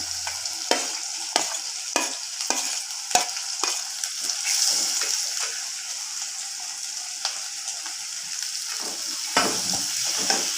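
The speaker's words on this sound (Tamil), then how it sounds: "வெங்காயம் நல்லா வதங்கிட்டோம்" Onions frying in a pan for a chicken gravy, with a steady sizzle broken by regular clinks and scrapes of stirring, close and alone.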